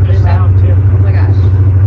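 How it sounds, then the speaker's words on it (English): A diesel semi-truck idles close by, its steady low engine rumble running continuously beneath people talking. "that's what it sounds like when you're standing next to a diesel semi-truck"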